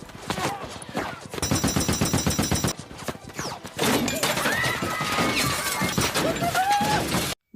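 Bursts of rapid gunfire from Somali rebels in a sniper film ring out in repeated volleys, with crashing impacts, shouting and a sudden stop at the end.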